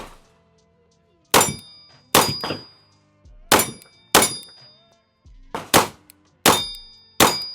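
Repeated metallic clangs ring out at irregular intervals, bright pinging hits of pistol bullets from a PSA Dagger Glock clone striking steel targets at a distance, each with a short ringing decay.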